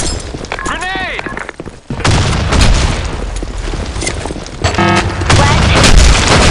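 A grenade blast in the shooter game Black Shot, a heavy booming burst followed by crackling gunfire and explosive noise, loud and close, with game voice callouts alongside.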